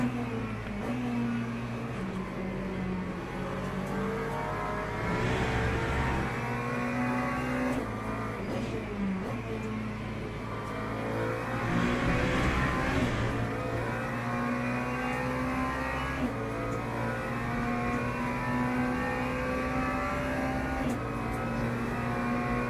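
LMP3 race cars from the Le Mans Ultimate sim racing game run continuously, engines droning and rising through gear changes, with faint passing surges over a steady, quiet background.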